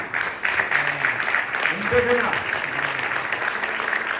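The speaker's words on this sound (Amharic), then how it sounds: "እስቲ አጨብጭቡ እንደገና" A church congregation claps together in sustained, dense applause that stays steady throughout, with voices and a few tonal sounds mixed in underneath.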